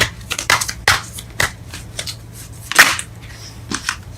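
Tarot cards are shuffled and drawn, giving a string of crisp riffling snaps and slaps at an uneven rhythm, close and fairly loud over a low background hum.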